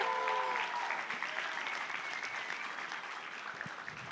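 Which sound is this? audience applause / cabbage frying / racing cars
audience applause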